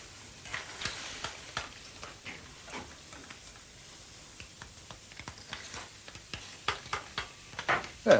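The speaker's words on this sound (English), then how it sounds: "we let that bubble and simmer for about 3 or 4 minutes until the clams open" A sauce of clams and Dijon mustard simmers in a pan, with quiet steady bubbling and small popping crackles that grow slightly busier toward the end.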